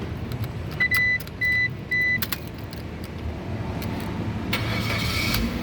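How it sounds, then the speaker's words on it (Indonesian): A 2008 Suzuki Baleno 1.5 automatic's engine cranks and turns over, preceded by three short electronic chimes, then settles into a low idle with faint clicks. "sekarang kita coba nyalakan mobil itu ya"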